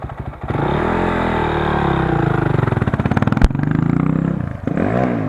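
A motorcycle engine revs hard and close with a loud, throbbing exhaust note, a sharp puff of exhaust cracking out midway before the revs settle and rise again.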